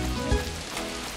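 Rain falls steadily in the farming game Story of Seasons: Pioneer of Olive Town, a soft continuous patter and hiss with a couple of faint low thumps.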